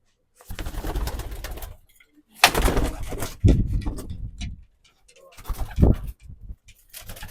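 Racing pigeons of a broken-beak bloodline coo in a loft, soft throaty bursts in several clusters with brief pauses between, close and fairly clear, with faint voices now and then.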